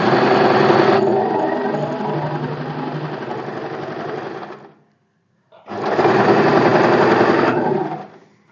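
A sewing machine stitches a marked sleeve strip for a sleeve design, running in a long steady burst of about four seconds, pausing briefly, then running again for about two seconds, close and loud.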